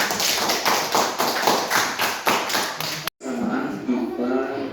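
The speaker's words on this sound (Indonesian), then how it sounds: "tepuk tangan untuk kelompoknya Sofi dulu ya" A classroom of students claps for a student group during a lesson on electric current, with dense rhythmic clapping that stops abruptly, followed by low classroom murmur.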